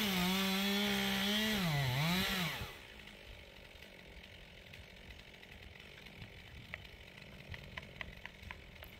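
A chainsaw cuts into a big tree trunk near a garage, its engine revving loud and close before dropping away abruptly, leaving softer scraping and tapping sounds.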